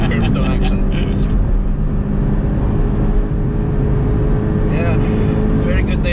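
A Porsche Cayman GTS running laps of the Nürburgring on a hot day, its engine note a loud, steady drone through most of the stretch with some passing vehicle noise, while people talk over it.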